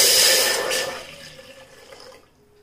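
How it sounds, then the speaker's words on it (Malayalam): Water poured from a cup into a pan while making dum tea, a splashy gush at first that thins into trickles and drips and fades out within a few seconds. "ഒരു കപ്പ് വെള്ളം നമുക്ക് ഒഴിച്ചു കൊടുക്കാം"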